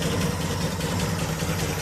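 A Ford Zodiac MkIV engine idles steadily, with a continuous low rumble and a fine, even pulse. It runs close by and fairly loud with no other sound over it.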